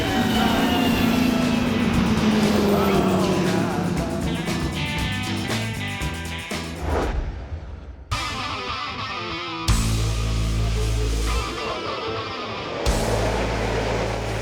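Classic Ferrari 250 race cars, including GTO, GT California and Testarossa models, run on the Le Mans circuit, their engines roaring and whining past in a loud sustained passage, then cut through abrupt shifts into separate close passes.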